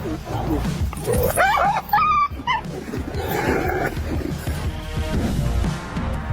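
A tiger and a dog fight: growls, roars and yelping whimpers tangle together in a loud, chaotic scuffle, with some barking-like yips.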